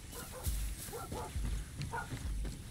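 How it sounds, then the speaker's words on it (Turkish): Dog in Far Cry 6 gives a handful of short, faint barks and yips in quick succession, heard at a low level. "Cici köpek."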